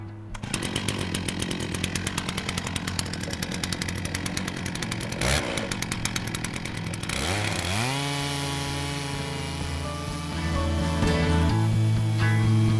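A chainsaw mill (Logosol Big Mill Timberjig) cuts a log lengthwise, the saw whining loud and close with rapid chain chatter, then the engine pitch drops and rises as it bogs and revs again through the cut.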